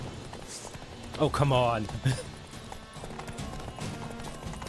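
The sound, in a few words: horse galloping hooves in Fortnite video game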